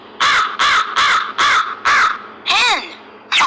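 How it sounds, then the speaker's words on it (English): Hooded crow giving a run of six harsh, evenly spaced caws, loud and close, with a final call that rises and bends before a seventh begins. "Hooded crow."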